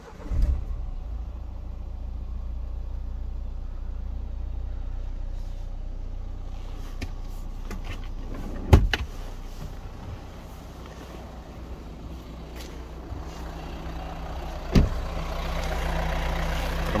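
2017 Renault Scenic 4 with a 1.5 diesel engine (K9K, automatic) started by push button: steady low engine hum at idle throughout, with a couple of brief clunks, heard from inside the car.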